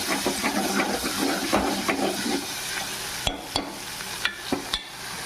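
Curry leaves hit hot oil in a pan for Sunday chicken curry, giving a dense, steady crackling sizzle, then sharp stirring knocks and scrapes that punctuate the frying in the final seconds.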